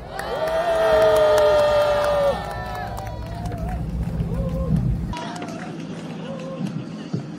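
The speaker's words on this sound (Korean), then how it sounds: "비상행동 양경수 공동의장님 큰 박수로 모시겠습니다." A rally crowd cheers and applauds to welcome a speaker, loud whoops and shouts over steady clapping for the first seconds, then easing into scattered claps and murmuring voices before the noise cuts off sharply.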